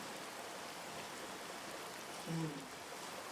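Heavy rain falling outdoors, a steady soft hiss of drops throughout, with a brief low voice-like sound near the end.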